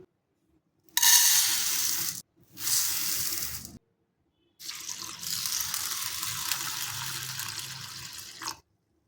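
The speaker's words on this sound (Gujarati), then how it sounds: "સૌથી પહેલાં આપણે એક બાઉલની અંદર દાળને લઈ અને 2 થી 3 પાણીએ ધોઈ લઈશું" Mixed lentils washed in water in a bowl: bursts of running, swishing water in three separate spells with silent gaps between, the last spell longest, moderately close and without any talking.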